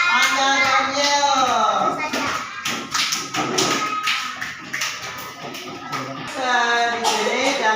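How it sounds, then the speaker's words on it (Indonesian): A classroom of children claps for a student named Daniel, bursts of close hand claps and taps forming irregular rhythmic applause that fades in the middle, with voices talking and chanting over it. "berikan tepuk tangan kepada Anda Daniel"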